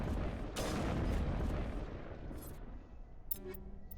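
Heavy booming gunfire and explosions from a video game on the icy world of Noveria, a dense rumbling barrage in the first half that thins into scattered shots and a few sharp bursts near the end.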